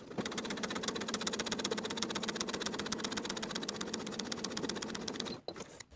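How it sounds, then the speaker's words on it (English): A sewing machine stitches long easing stitches along a shirtdress sleeve in a steady, fast mechanical whir with a rapid even rhythm, close and continuous, then stops abruptly near the end. "we're going to sew easing stitches using the longest stitch on your machine from outer notch to outer notch"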